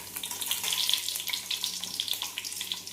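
Dried red chillies fry in hot sesame oil with urad dal and fenugreek, giving a steady close hiss and crackle with scattered sharp pops.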